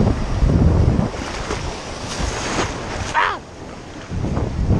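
Surf rolling in and wind gusting on Galveston beach, a steady roar of breaking waves with rumbling microphone wind buffeting throughout, fairly loud and close.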